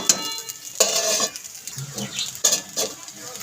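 Rice and fried vegetables stirred together in a pan, with a spoon scraping and clinking against the metal in several irregular bursts, close and fairly loud over a faint sizzle, no speech.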